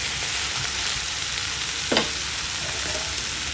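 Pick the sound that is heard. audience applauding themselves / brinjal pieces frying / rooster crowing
brinjal pieces frying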